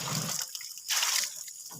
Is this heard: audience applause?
no